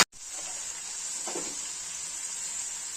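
Steady sizzling of onions and tomatoes frying with spices in a pan, a constant bright hiss with a brief stirring scrape partway through, no talking.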